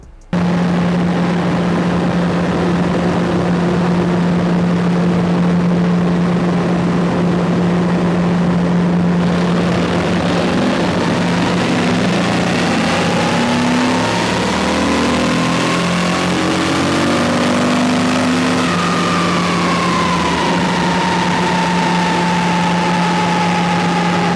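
2024 Harley-Davidson Road Glide with a Stage 2 upgrade running on a dyno, a loud continuous engine drone holding steady before climbing through a long pull with the pitch rising and shifting. No voices are heard.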